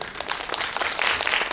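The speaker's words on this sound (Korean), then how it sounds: "박수 한번" Clapping from a cinema audience at a guest-visit event in a Lotte Cinema World Tower theater: a brief, full burst of many hands that swells slightly toward the end, with no talk over it.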